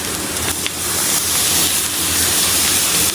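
Shrimp frying on a hot tawa, a steady loud sizzle and hiss filling the whole stretch with no break.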